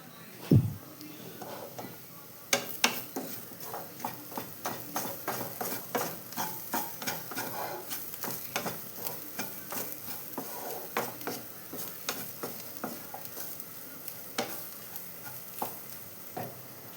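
Grated coconut is roasted in a pan and stirred continuously, making a rhythmic run of scraping and clattering strokes over a soft, quiet sizzle, close up and fairly faint.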